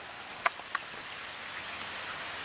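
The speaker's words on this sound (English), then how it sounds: "Muggy as heck and raining." Rain falls on the Moreau River on a muggy day. A faint, steady patter of drops on the water is broken by a couple of sharp little clicks.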